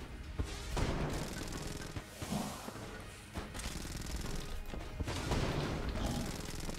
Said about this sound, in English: Trying to shoot him with my serious cannon because it bounces, so we get it multiple times per shot.